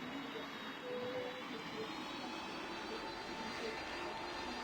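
Airplane engine in the Roblox flight game PTFS, a steady broadband roar with a faint tonal whine, constant and unbroken across the clip with no talk over it.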